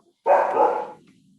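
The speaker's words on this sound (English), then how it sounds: "On cue, my girls are barking." Several dogs barking in a quick burst close by, a single loud flurry of about three quarters of a second that then stops.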